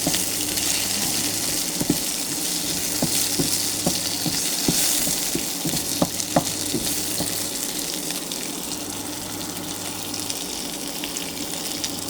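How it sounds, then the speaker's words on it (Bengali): Steady, close sizzling of fish frying in oil at 160°C, with scattered pops and a few light clinks throughout. "এটা আমি হচ্ছে রান্না করতেছি, ফ্রাই করতেছি 160°C"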